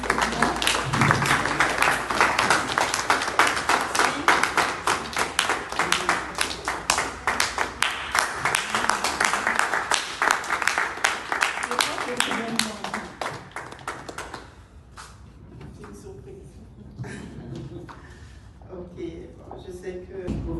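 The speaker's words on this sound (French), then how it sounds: "Puis, j'aimerais ça qu'on l'applaudisse." An audience at a women's entrepreneurship event applauds the vice-president, dense clapping for about fifteen seconds that thins out, followed by quieter talk.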